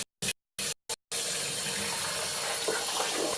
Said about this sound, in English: I need some cool water here.